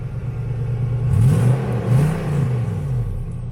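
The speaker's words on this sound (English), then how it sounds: "you can actually hear the exhaust now" Lexus GX470 fitted with a Magnaflow Overland cat-back exhaust revs a few times, the deep exhaust note rising and falling in two or three swells over a rumbling idle, close and loud.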